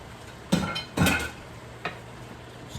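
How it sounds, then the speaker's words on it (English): A utensil stirring shrimp, tomatoes, garlic, onion and meat in a pan for paella, a few scraping clinks against the metal in separate bursts over a low background hum. "Stir that around a little bit."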